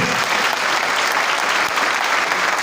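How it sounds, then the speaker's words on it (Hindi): Enthusiastic applause from a crowd, a dense continuous roar of clapping that stays loud and even throughout. "सब लोग कर्नल साहब के लिए जरा जोरदार तालियां बजाएंगे।"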